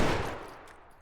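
A single loud anti-materiel rifle shot from a video game, firing armor-piercing rounds, cracks sharply and then decays quickly into a fading rumble with no voices.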